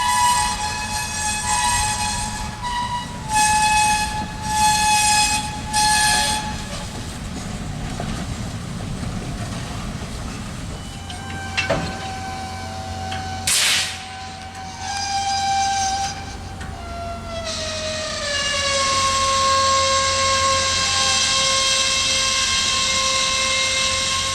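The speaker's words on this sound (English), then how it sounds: "Local job LCA 421 is the train here working at the Nyssa depot." Union Pacific local freight LCA 421 works at the Nyssa depot among boxcars, its engine rumbling steadily before a long, loud horn blast sounds near the middle and a sustained high-pitched rail squeal rises toward the end.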